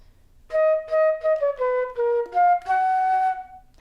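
A solo flute plays one measure of a melody: a short run of clear, separate notes stepping downward and then up, close and alone.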